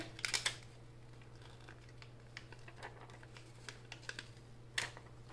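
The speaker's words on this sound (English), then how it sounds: "I'm just going to peel this back from the sticker." A Dollar Tree vinyl sticker being peeled off its backing, heard as faint, close crinkling and small papery ticks, with a sharper rustle at the start and another near the end, in a quiet room with a low steady hum.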